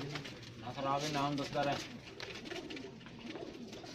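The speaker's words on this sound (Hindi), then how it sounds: "ये दूसरा स्लेटी कबूतर है" A grey pigeon in a loft gives a couple of low rolling coos early on, mixed in with nearby speech and soft background noise.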